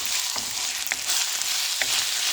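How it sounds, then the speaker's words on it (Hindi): Chopped tomatoes fry in minced meat for karahi keema, giving a steady close sizzle broken by a few sharp stirring scrapes, with no voices. "टमाटर ऐड करके इसको हल्का सा फ्राई कर लें।"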